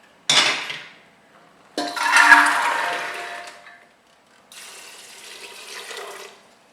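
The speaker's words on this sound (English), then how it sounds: "I have poured water along with the rajma." Water pours in three separate bursts into a pressure cooker holding soaked rajma kidney beans, splashing and rushing loudly up close, each pour fading out before the next.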